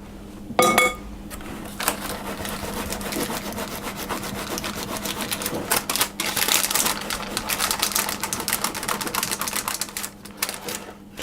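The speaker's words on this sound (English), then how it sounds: "it should level off by itself if we give it a bit of a shake" A brownie tin of chickpea, chocolate and coconut batter is shaken to level it, making quick, dense rattling taps that run close and continuous with no voices.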